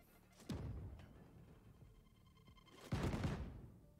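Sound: explosions and gunfire in a zombie video game

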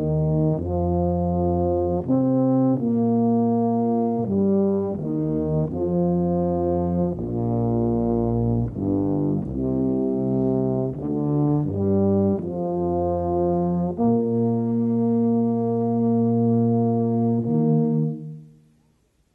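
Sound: tuba and euphonium ensemble playing a smooth connected phrase

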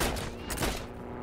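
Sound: gunfire in the video game Heroes and Generals

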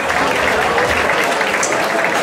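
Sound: applause for two boxers after a bout

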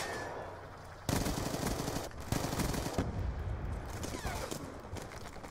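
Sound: gunfire in Call of Duty Black Ops 2 video game

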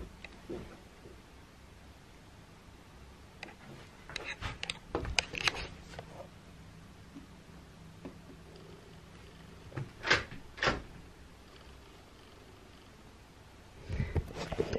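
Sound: door being moved

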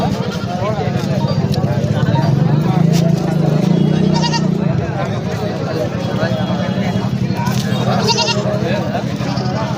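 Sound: goats bleating at a livestock market

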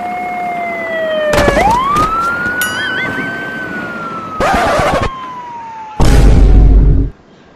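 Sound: ambulance siren in the video game GTA

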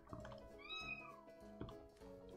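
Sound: cat meowing in the video game Minecraft

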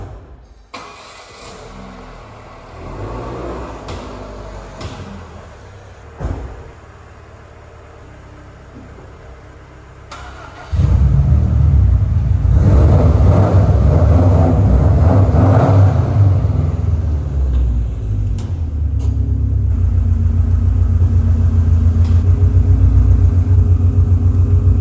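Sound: car being maneuvered into a parking space

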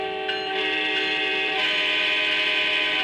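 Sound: train whistle

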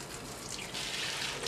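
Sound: boiled pasta being strained, water draining

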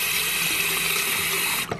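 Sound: tap water running to rinse an ear wax remover

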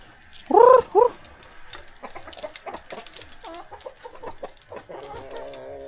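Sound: chickens clucking

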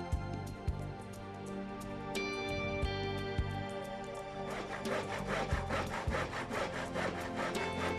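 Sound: hand saw cutting wooden stair base rail

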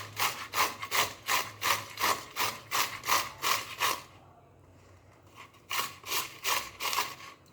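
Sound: grating bitter gourd on a hand grater

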